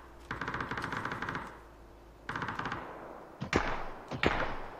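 Gunfire in the video game PUBG: two rapid automatic bursts, followed by a few loud single shots. The shots sound fairly close and no one speaks.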